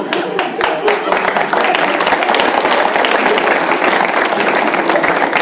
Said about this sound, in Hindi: ये सब वो ताली बजा रहे हैं जिनको बात करनी पड़ रही